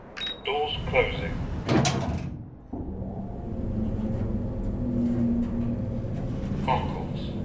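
Lift doors sliding shut at Gospel Oak station in the Train Sim World 5 video game, with a rumbling slide and a thud, then a steady motor hum, and an announcement voice heard before and after.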